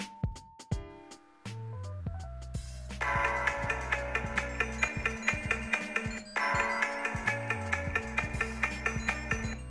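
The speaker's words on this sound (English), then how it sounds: "the phone rang and sent me a notice telling me that my wallet is not with me at the moment." Phone alert triggered by a MYNT ES Bluetooth tracker going out of range: a bright electronic ringtone melody with sharp repeated tonal notes, starting sparse and building into a busier looping pattern, loud and alone.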